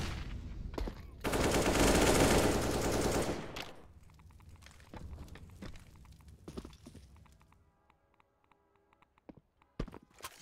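Counter-Strike gunfire on the Train map: a loud sustained burst of automatic fire lasting about two seconds, then scattered fainter shots and clicks trailing off, with no talk.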